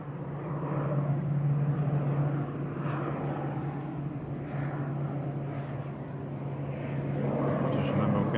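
A Loganair ATR 42-500 turboprop departs, its engines giving a steady droning hum with a low tonal buzz under a broad roar, rising toward the end, while people talk over it.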